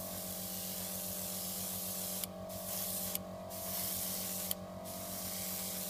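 Faint hiss from an aerosol can laying down another coat of spray, heard as three short bursts separated by pauses over a low steady background hum.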